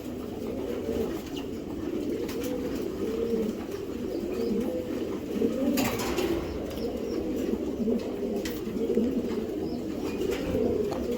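Giribaz flying pigeons from a trusted loft coo in an ongoing, overlapping chorus nearby, with a brief soft flutter midway and no speech.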